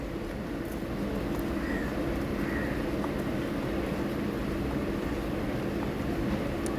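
A train arrives at a railway station platform in Ernakulam, a continuous low rolling rumble that holds steady throughout without voices.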